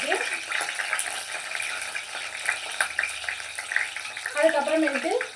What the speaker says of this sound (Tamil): இது லைட்டாக பொரிஞ்சு வரட்டும்.